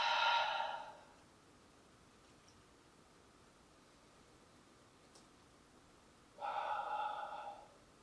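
Two slow, deep breaths during a beginner yoga pose, an airy exhale at the start and another after a long quiet pause, both close and breathy with no talk.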